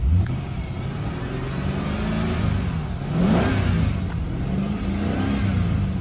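A 2008 Mercedes-Benz S550 W221 engine revs up and eases back in slow waves, a close, steady mechanical drone with no talking.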